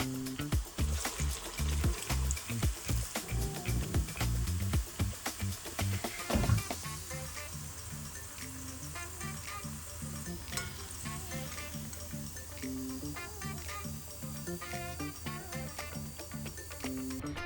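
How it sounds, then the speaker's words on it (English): Medu vada, shaped lentil fritters, sizzle in hot oil over medium heat, with bubbly crackling and a few sharp splashes early, then a softer, steady frying hiss that continues alone. "Carefully slide them into the oil. Fry on medium heat until golden, crisp and cooked inside."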